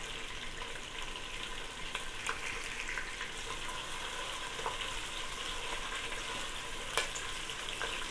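Shrimp frying with spices in a pan, part of a fried rice dish, giving a steady, dense sizzle with scattered crackles and pops throughout, close and continuous with no talk.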